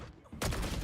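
Rapid gunfire from a Valorant match bursts in loud and dense after a brief quieter lead-in, sustained volleys continuing to the end.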